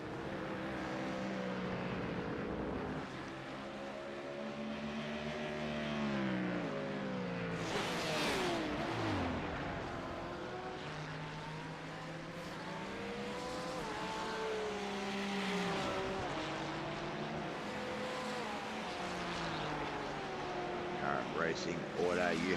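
GT3 race cars howling around the track in a sim racing game, engines rising and falling through gear changes with passing surges, while a commentator talks over them throughout.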